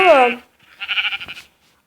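A Minecraft sheep bleats loudly up close, then after a short pause a second, wavering bleat follows, its voice quivering in rapid pulses.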